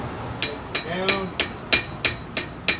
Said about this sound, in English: use my hammer, the ball peen,